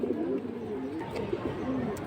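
A large, heavy-bodied domestic pigeon coos steadily, its low rolling calls close and clear over faint background noise.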